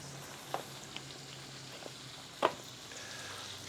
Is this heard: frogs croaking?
no